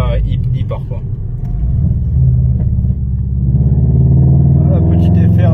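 A Subaru Impreza WRX STI turbo car pulls hard, its engine rumble building and rising in pitch as it accelerates, heard from inside with someone talking over the drone.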